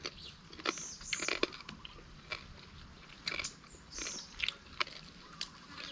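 Close, crisp bites and chewing on a crispy baked chicken wing, with scattered crunches and crackles coming in irregular bursts over faint background noise.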